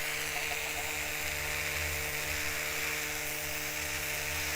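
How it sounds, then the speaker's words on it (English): A Dremel rotary tool runs nearby, used for crafting a miniature townscape cone-shaped cape, giving a steady, unbroken high whine with a constant motor hum for the whole stretch. "Also, using a Dremel"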